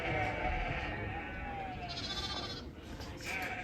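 Sheep in the Himalayan hills near Sissu give a few faint, wavering bleats carried on strong wind, heard through an open window against a constant breezy roar.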